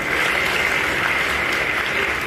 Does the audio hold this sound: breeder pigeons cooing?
no